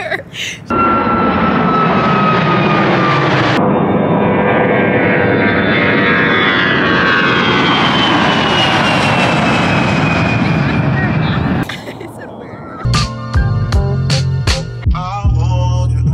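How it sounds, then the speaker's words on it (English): A propeller airplane drones loudly overhead for about twelve seconds, a steady whine with a rising tone. It cuts out abruptly and is followed by short bursts of unrelated sound. "the plane's up there"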